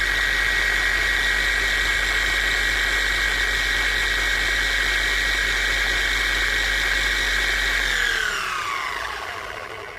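A pad washer spins a wet, soft buffing pad with a loud, steady high whine and low hum, then the motor winds down and the pitch falls away toward the end.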